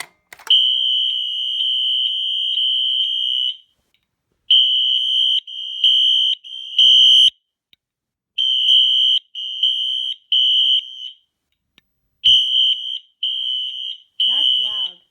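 A fire alarm under test, a newly installed unit bearing a Siemens sticker, blares a loud, piercing steady tone, first in one long blast and then in repeated shorter bursts with gaps.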